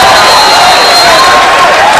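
A basketball crowd at a Butler home game cheers loudly after a dunk, a dense sustained roar with whistles and yells filling the whole moment.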